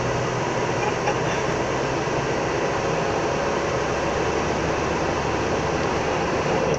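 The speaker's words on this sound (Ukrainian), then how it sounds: "Це вентилятор робив." A steady, even whoosh of a ventilation fan blowing inside a moving car, constant and close, with road rumble underneath and no talking.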